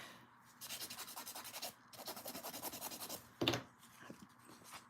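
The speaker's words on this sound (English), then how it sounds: "My file is starting to lose some of its grit, finally." A worn, gritty nail file is rubbed across nails during a dip-powder manicure, making raspy back-and-forth strokes in two rhythmic bursts, then a sharper scrape and softer scratching.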